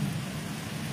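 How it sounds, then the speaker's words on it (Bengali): Loud, continuous storm noise in the Sundarbans, a deep rumbling of thunder blended with steady rain, filling the whole second without a break and with no voices. "মেঘ ডাকছে খুব জোর"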